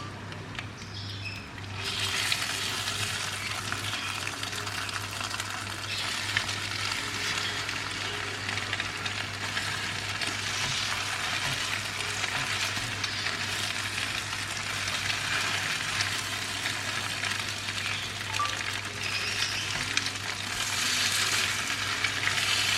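French toast fries in a pan on low heat, giving a continuous close sizzle with fine crackling and spatter that holds steady throughout, over a low background hum.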